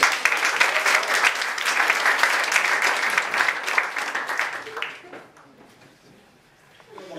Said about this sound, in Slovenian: dajte en velik aplavz za čustveni virus